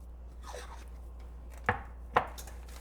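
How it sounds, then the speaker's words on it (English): Two sharp knife chops through potatoes on a cutting board while preparing a seafood boil, close and distinct over a low kitchen hum. "So I've cut my potatoes."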